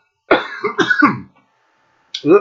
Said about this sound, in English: edit that cough out